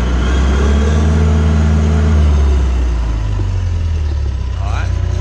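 A John Deere 450J bulldozer's diesel engine runs loud and close, its pitch shifting as the throttle is dialed up, with a continuous heavy rumble throughout.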